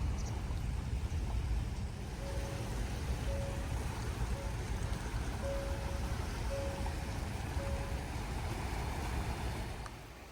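Steady rain falls on a coastal road in Jeju, making a constant broadband hiss with a low rumble beneath it, and a faint intermittent beeping tone sounds in the middle.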